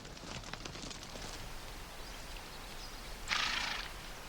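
A horse on the American prairie whinnies in a short, bright call near the end, after faint hoof and movement sounds over a quiet outdoor background.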